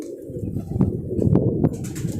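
A low, throaty pigeon coo repeats a few times inside a loft and is close and moderately loud. An aged pigeon is being shown, and faint rustling sits under the calls.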